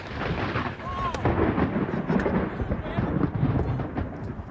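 A close lightning strike during a storm chase cracks and rolls into heavy, rumbling thunder that fills the whole stretch, with rain hiss and people talking faintly underneath.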